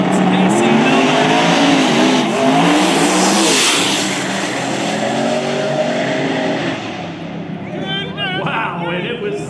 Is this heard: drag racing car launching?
yes